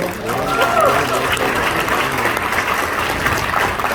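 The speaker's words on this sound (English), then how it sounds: "Please give another round of applause for Indus Hospital." Applause from a crowd at a stand-up comedy show in Vancouver, steady and dense throughout, with voices mixed in underneath the clapping.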